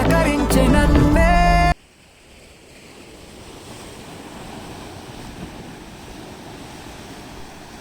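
A brief burst of music gives way to the steady, broad wash of ocean waves breaking at Gangavaram Beach in Vizag, a continuous roar mixed with wind buffeting the microphone, with no talking.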